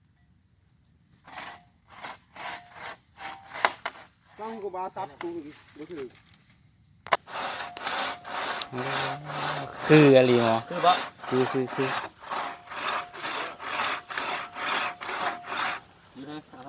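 A handsaw cuts through wood outdoors with rapid rhythmic back-and-forth strokes that pause and resume, loud and close, while people chat nearby.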